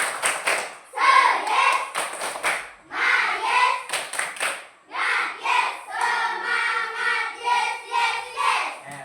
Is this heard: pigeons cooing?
no